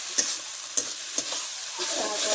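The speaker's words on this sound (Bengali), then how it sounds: "ওই নেড়ে নেড়ে নেড়ে নেড়ে এটা ভালো করে কষিয়ে নিতে হবে" Chicken being stirred and fried in oil with yogurt for a green-chilli chicken curry: a soft continuous sizzle broken by three sharp spatula scrapes against the pan, close and clear, no talking.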